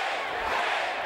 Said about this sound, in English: the crowd erupts into chants of Nate here at the Rose Garden